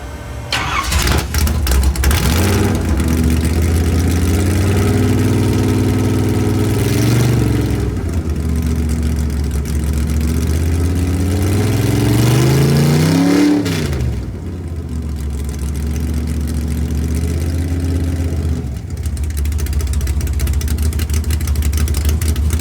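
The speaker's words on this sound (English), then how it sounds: "Now, here comes the car. We're going to start it right now." A car engine at an outdoor car cruise cranks and catches, then idles roughly and is revved several times, the pitch climbing and falling in long sweeps, loud and close, with a final sharp rev before settling.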